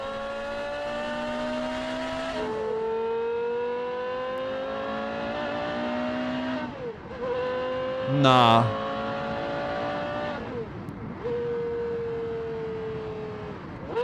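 A Porsche Carrera GT's high-revving V10 engine screams through repeated rising pitch sweeps, dropping and climbing again between gear changes, loud and close, with a brief word spoken.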